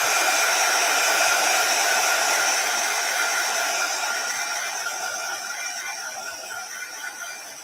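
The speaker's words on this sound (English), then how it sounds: "So excuse the gun, but we're just going to dry it because it's a pigment ink" A heat gun blows over a card to dry pigment ink, a loud, close, constant whirring roar that fades slightly toward the end.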